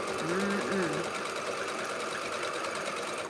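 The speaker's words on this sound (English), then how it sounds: "Now I'm quilting the chocolate quilt." A sewing machine runs steadily while quilting a chocolate-themed quilt, a continuous close mechanical whir with a brief voice-like tone near the start.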